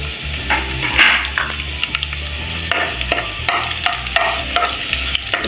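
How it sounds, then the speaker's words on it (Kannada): Crushed garlic and curry leaves sizzle in hot oil in a pan for paneer pepper fry, with a loud close frying hiss, a burst of spatter as they go in and repeated stirring scrapes. "ನಾನಿವಾಗ ಇದಕ್ಕೆ ಜಜ್ಜಿಟ್ಕೊಂಡಿರೋ ಬೆಳ್ಳುಳ್ಳಿ ಹಾಕ್ಕೊಳ್ತಾ ಇದ್ದೀನಿ. ಅದ್ರ ಜೊತೆಗೆ ಕರಿಬೇವು ಹಾಕ್ಕೊಳ್ತಾ ಇದ್ದೀನಿ."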